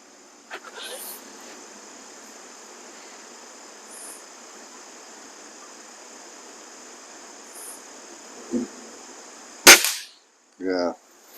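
A Gamo Varmint air rifle fires once with a sharp, close crack near the end after a long stretch of quiet outdoor insect buzz, followed by short bursts of voices.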